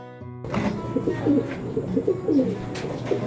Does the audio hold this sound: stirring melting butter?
no